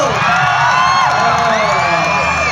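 A concert crowd at a campus show screaming and cheering for a band, a loud dense wall of shrill high-pitched shrieks and whoops, rising and swelling in waves over its short length.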